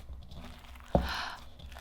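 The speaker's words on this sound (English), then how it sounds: "And listen to that crunch." Crunchy no-glue slime squeezed by hand gives one sharp, close crunch, followed by a short stretch of softer crackling.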